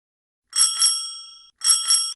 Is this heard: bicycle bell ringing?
yes